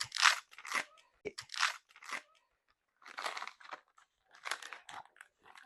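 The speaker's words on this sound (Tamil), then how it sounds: "இப்ப கிஃப்ட் ஓபன் பண்ணி பார்ப்போம்" Gift wrapping is torn open at close range in a series of sharp crinkling rips and crunches, arriving in irregular bursts separated by short pauses.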